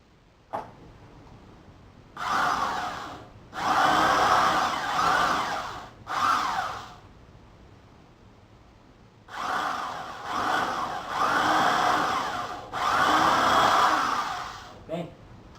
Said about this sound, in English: I will bore it with a 1/4 drill bit.